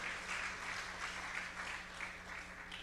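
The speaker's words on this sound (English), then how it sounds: "another round of applause, please, for the Attorney General and Acting Prime Minister" Assembly audience applauding the Attorney General and Acting Prime Minister at a broadcasting union's opening ceremony; a faint, steady wash of clapping from a distant crowd over a low hum.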